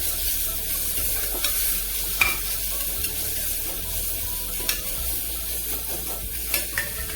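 Coriander paste added after ginger-garlic paste sizzles and fries in a pan for tomato rice, with steady stirring scrapes and occasional utensil clicks over a constant hiss, close and without talk.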